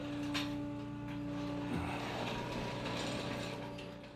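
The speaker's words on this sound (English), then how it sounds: "So let me just jack it up and grab this stuff out of it." A jack ratchets to lift a Saab with a fiberglass body, a close mechanical clicking and grinding with a hum underneath, steady for a few seconds.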